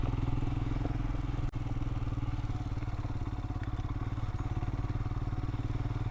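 A motorcycle rides along an unsurfaced trail in Wales, its engine a loud, steady, close-up putter with a rapid regular pulse that continues unbroken throughout, apart from one sharp brief thump near the start.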